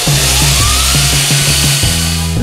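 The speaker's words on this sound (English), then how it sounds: "you want to check out this multi-tool from tricktools.com" A large multi-tool grinder runs steadily on sheet metal, a loud continuous motor whine with pulsing grinding bursts and no talking.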